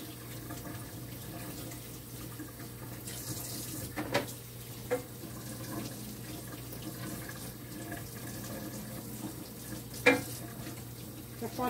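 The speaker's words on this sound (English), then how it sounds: "Washing my hands, folks." Tap water running steadily into a kitchen sink as hands are washed free of flour, a faint continuous trickle with a few soft knocks and clinks over a low hum.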